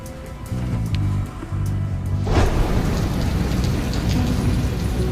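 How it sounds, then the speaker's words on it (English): Rain falls on Guam during the August rainy season. A low rumble gives way to a dense, steady hiss that swells louder and heavier after about two seconds and stays close with no voices. "Rain has been hitting Guam on and off all day."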